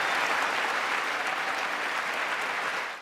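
Sustained applause from a large audience in Congress during Biden's State of the Union address, a dense, even wash of clapping that holds steady throughout.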